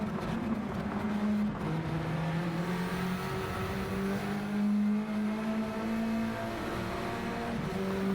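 Honda Civic Type R race car in a racing video game, onboard at Brands Hatch: a steady, close engine drone rising and falling with revs and gear changes, continuous throughout with no voices.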